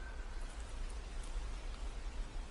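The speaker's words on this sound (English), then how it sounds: "you may hear the raindrops on the roof" Raindrops patter on a roof, a faint, even, continuous hiss with no other sounds over it.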